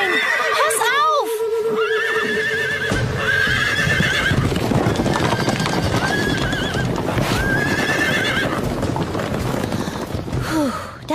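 A wild horse in an animated cartoon whinnies loudly several times over galloping hoofbeats that drum steadily, with a sigh and gasp mixed in.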